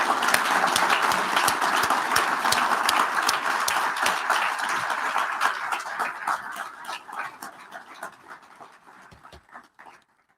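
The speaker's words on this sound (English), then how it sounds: "Angie a round of applause." A club's annual meeting audience gives a sustained round of applause, a dense crowd of claps that gradually thins and fades out over about ten seconds.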